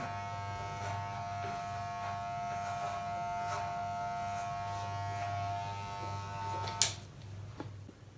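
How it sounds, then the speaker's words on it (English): Electric hair clippers hum steadily close by while cutting a military-style haircut, a constant buzz that stops abruptly near the end with a sharp click. "If you don't, just use the regular clippers."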